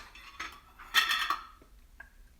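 A spoon scoops cocoa powder into mugs, giving a few light clinks and scrapes against the rims, close and clear, with a brighter cluster of taps in the middle and no talking.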